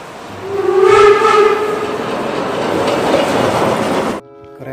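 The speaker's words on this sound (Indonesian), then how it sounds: "Kereta uap, teman-teman." A toy steam train sound effect with a rising whistle tone over a steady rolling clatter, loud and close, ending abruptly with a brief quieter tail.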